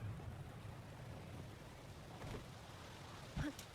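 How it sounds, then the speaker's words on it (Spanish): Rain begins falling in the mobile video game Monster Hunter Outlanders, a soft, steady patter with faint water and a brief louder splash near the end, all fairly quiet. "¿Está lloviendo? Ah, pues sí, va a empezar a llover."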